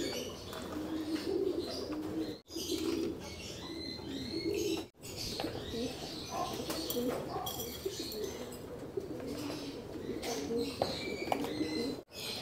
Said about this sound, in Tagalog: Ayan, kainan nga ng grits mga kalapatids.